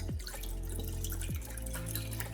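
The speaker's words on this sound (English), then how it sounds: "Then we're gonna pour our seafood broth in here." Seafood broth pours into a cooking pot with quiet splashing and a few dripping plops, heard alone at a low level.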